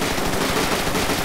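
Rapid automatic gunfire from the video game GTA 5, a dense unbroken burst of shots lasting about a second, loud and close with no talk.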